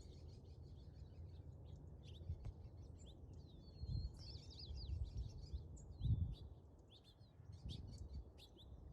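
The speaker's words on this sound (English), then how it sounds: "If you listen closely, you can actually hear the birds" Several small birds sing and chirp at dusk in coyote brush habitat, a scatter of bright, overlapping calls and trills over a steady low rumble of background noise, with no talking.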